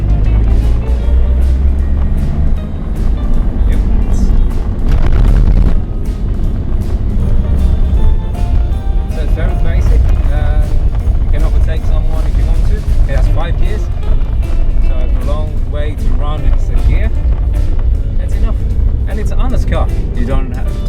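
A 1984 Mazda 323 (BD) with a 1.3-litre engine drives along, its steady engine and road noise loud and constant throughout, with a person talking over it much of the time.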